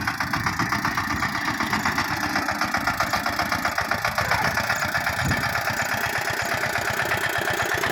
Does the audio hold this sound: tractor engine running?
yes